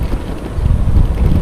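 Loud, gusty wind buffeting the microphone while cycling on a Himalayan road in India, low rumbling bursts that swell toward the end, with no voices.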